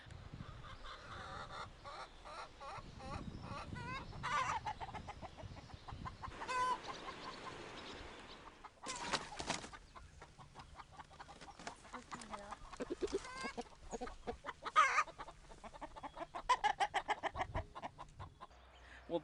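Chickens clucking and squawking in a busy, overlapping flock, with a few sharper honk-like calls rising above the steady chatter.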